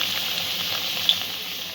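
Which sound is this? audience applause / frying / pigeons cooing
frying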